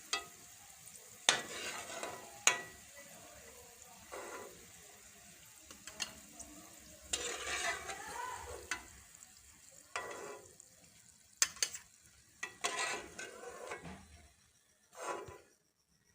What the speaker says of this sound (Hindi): अब इनको हल्की आंच पे फ्राई करेंगे 3 से 4 मिनट के लिए।